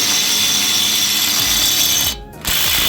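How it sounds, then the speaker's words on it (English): An impact wrench with a 15 mm socket loosens a stabilizer link nut on a 2005–2011 Lincoln Town Car, giving a continuous close-up buzzing hammer with a brief pause before it resumes; no talking. "So take your 15, put it on an impact wrench."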